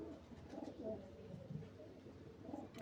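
A young pigeon gives soft, low cooing in several short throaty bursts, faint and close, over quiet background hiss.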